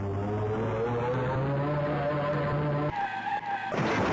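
A car skids with a sustained, sliding tire screech over a droning engine in a 1988 Amiga racing video game, loud and continuous before cutting to a brief shifted tone.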